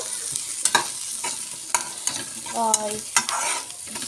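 Food frying in a pan for an egg boti fry, a low steady sizzle with repeated spatula scrapes and stirring knocks, close and moderately loud, with no voices.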